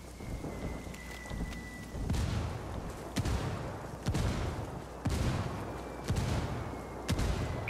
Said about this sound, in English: Got a mark, mortar's coming right on him.